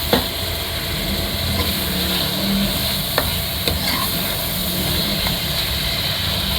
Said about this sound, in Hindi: अब इसको थोड़ी सी इसकी भुनाई करते 5 मिनट तक इसकी भुनाई करते।